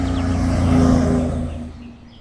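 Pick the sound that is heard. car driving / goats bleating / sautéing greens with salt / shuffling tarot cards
car driving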